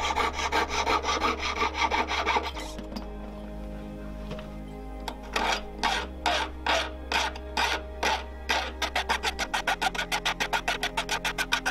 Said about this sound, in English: We then cut the excess off and file down the rough edges.